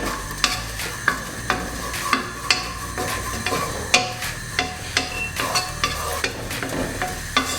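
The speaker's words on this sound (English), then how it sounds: "Now we're going to add the onions and garlic. Let's sweat them off a little bit." Onions and garlic sweating in hot olive oil in a pan for a Mediterranean fish soup, a steady close sizzle punctuated by regular sharp taps and scrapes of a utensil stirring, no talk.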